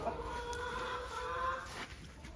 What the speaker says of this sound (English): So as you know, these are our older chickens.